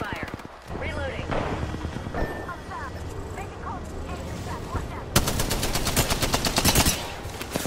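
Rapid gunfire from Apex Legends, bursts of automatic shots with a dense, loud stretch of rattling fire in the final few seconds and scattered shots earlier, while in-game voices talk over it.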